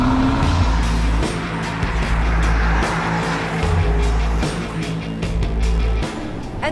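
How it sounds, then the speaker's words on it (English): An Aston Martin DBX SUV's 550-horsepower V8 with active exhaust revs hard and loud with a deep exhaust roar, rising and falling between bursts of acceleration, close by. "The active exhaust system can make the engine sound tranquil or terrific."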